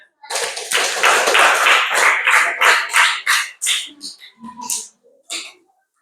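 Schoolchildren in a Grade 5 primary school classroom clap their hands, a loud, close burst of many hands that breaks into scattered, uneven claps before stopping.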